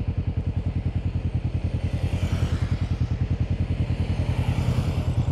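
A Honda Rebel motorcycle riding past, its engine a loud, close, steady rapid thumping that holds throughout with no one talking.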